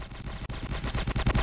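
Rapid, dense gunfire from a team shooter video game crackles in a continuous burst of overlapping shots, loud and close, with no voices.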